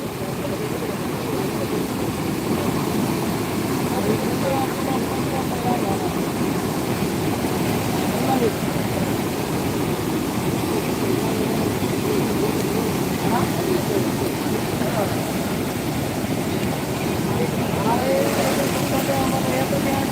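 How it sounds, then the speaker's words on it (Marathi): Floodwater of the Sindfana river rushes over a twenty-five-foot bridge between Nimgaon and Nandewali, a loud, continuous roar of churning water with no let-up throughout. "पंचवीस फुटापेक्षा वरून पाणी जात आहे"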